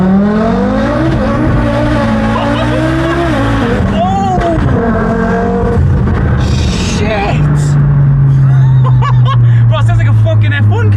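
An Audi RS3 tuned to 1300 bhp, running on low boost at around 750 hp, accelerates hard on UK roads. The engine note climbs in loud, close, rising sweeps while people talk and laugh inside the car.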